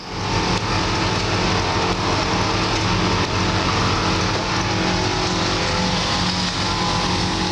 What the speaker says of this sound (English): You can hear the compressor kicking on now.